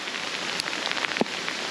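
Hail pelts down on the Oregon coast near coastal cliffs, a dense, steady patter of pellets striking the ground and nearby surfaces with occasional sharper hits, fairly close and alone without talk.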